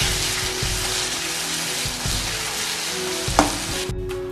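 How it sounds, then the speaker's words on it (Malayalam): Sliced onions with curry leaves and a pinch of salt frying in a pan for chicken chukka, a steady close sizzle with occasional stirring scrapes, no talking. "സവോള ഫ്രൈ ചെയ്യാനിട്ടിട്ടുണ്ട്. അപ്പോൾ കൂടെ കുറച്ച് കറിവേപ്പിലയും കൂടെ ഇട്ട് കൊടുക്കുക."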